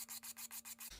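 Fine 220-grit sandpaper rubbed back and forth on a surface, about six quick even scratchy strokes, close and soft.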